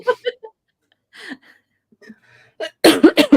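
A quick, explosive sneeze bursts out near the end, following a few faint vocal sounds and soft murmurs.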